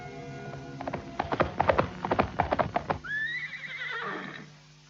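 A horse neighs in a radio-drama production, preceded by a run of sharp hoofbeats clopping on a hard surface, then a long, loud whinny rising and falling to a close, with no voices.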